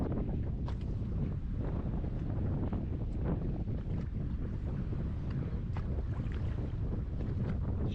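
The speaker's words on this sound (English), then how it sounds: "seems a little windier right here." Strong wind buffets the microphone while fishing from a boat at Grand Isle, Louisiana, a continuous low roar and rumble with gusting texture that runs the whole time, no voices.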